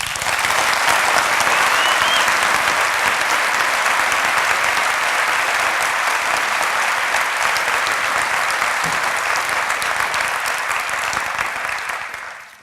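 Sustained applause from an audience at a motivational talk, a dense even clatter of clapping hands that holds steady for about twelve seconds before fading out.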